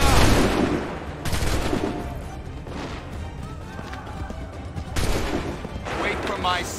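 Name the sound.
musket gunfire volley in Assassin's Creed III video game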